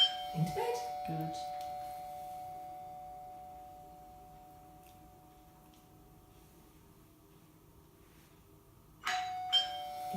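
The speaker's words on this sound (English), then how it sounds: "so the doorbell's going to go" A doorbell chimes during dog training at home with a sustained tone, quieting through the middle, then ringing again near the end, while a person talks at the start and close.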